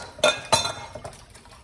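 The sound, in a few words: whisking evaporated milk into mixture in bowl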